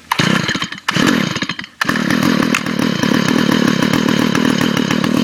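Gas string trimmer engine running close by, a loud buzzing two-stroke drone that cuts out briefly twice, then settles into a steady, sustained roar.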